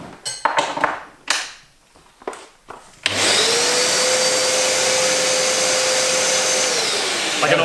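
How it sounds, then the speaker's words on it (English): SE4001 wet vac fitted with a bag and filter, switched on after some knocks and handling, then running as a steady, loud, even motor whine and rush of air with a constant tone held for several seconds. "So that's the wet vac."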